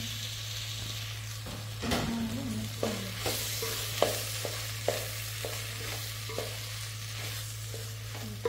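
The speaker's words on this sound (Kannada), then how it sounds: "ಈಗ ಫ್ರೈ ಮಾಡಿದ ಗೋಬಿಯನ್ನು ಹಾಕ್ತಿದ್ದೇವೆ" Fried cauliflower pieces tossed into a pan of manchurian sauce and stirred, with a low sizzle, a clattering drop, then repeated sharp spoon scrapes against the pan at a steady pace.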